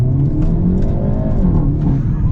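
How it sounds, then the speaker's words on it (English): Engine of a 2023 Hyundai Elantra N in N mode pulls hard from a stop, a loud, steady rising drone with harmonics sweeping upward, heard from inside the cabin with no talk over it. "we're gonna come to a complete stop here because I want to see how this thing accelerates"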